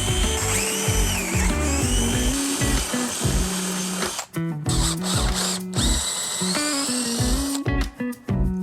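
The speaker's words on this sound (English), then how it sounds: "Now I'm going to use a 5/16 drill bit and I'm going to make the holes 5/16" A power drill bores 5/16-inch holes for a hinge bolt while building an easel stand. It is loud and close, whirring in repeated bursts with brief stops and restarts, and no voices are heard.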